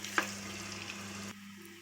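Marinated chicken fries in ghee and oil in a biryani pot, a steady close sizzle with a faint hum underneath that drops away abruptly after just over a second.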